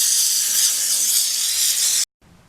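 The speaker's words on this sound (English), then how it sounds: "the steam is the best way I know to get that final little bit of goop off" A Harbor Freight steam cleaner blasts steam onto motorcycle parts, making a loud, steady, bright hiss close by for about two seconds before cutting off abruptly into near silence.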